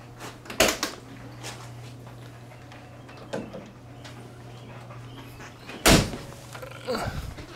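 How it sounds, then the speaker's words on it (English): A vehicle's fuel door is opened with a few sharp clicks and clunks: a brief pair near the start, a smaller knock midway and a louder snap later, over a steady low hum, with no talking. "Let's open the fuel door."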